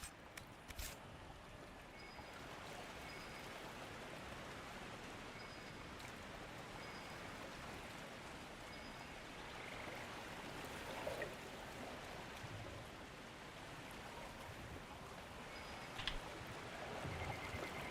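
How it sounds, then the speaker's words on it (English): Steady broadband rush of a waterfall in the video game Dragon Age Inquisition, a constant close wash of falling water that holds evenly throughout with faint game tones above it. "I feel like there's loot behind this waterfall."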